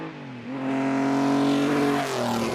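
Maserati 2.5-litre straight-six petrol engine producing around 270 bhp, heard close and loud as the revs climb in a steady rising drone, then shift up and ease slightly.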